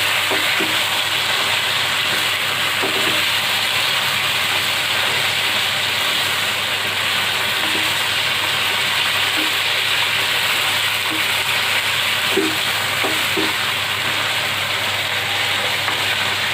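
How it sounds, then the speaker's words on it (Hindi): Chicken fries in a pan with a steady, dense hiss and crackle of hot oil that stays close and even throughout, with occasional soft pops and no talking. "चिकन का कलर और चेंज हो गए, इतना हमने फ्राई करना है, बहुत ज़्यादा फुल फ्राई नहीं करेंगे इसको"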